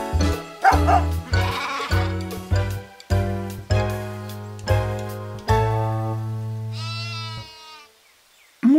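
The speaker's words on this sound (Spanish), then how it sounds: "¡Oh, no! ¡Se escaparon mis ovejas!" Cartoon sheep bleat in a string of short, loud, wavering cries, one after another, set in an animated farm scene for children.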